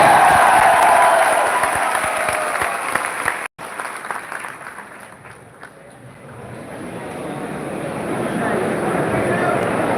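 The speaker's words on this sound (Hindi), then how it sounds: "दो हस्तियां हैं, उसके तालियां होनी चाहिए।" Audience applause welcoming two guests at a live motivational event, a loud burst of clapping that cuts off abruptly, followed by quieter scattered claps, crowd murmur and talk before clapping swells again.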